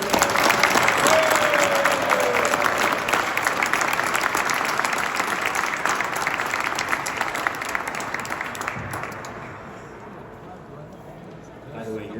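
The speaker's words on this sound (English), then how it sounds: "I want to give a round of applause" A large crowd at San Francisco City Hall applauds for the newly introduced mayor during a Teamsters 665 centennial celebration, steady dense clapping that holds loud for several seconds before thinning and fading, with voices and cheers mixed in.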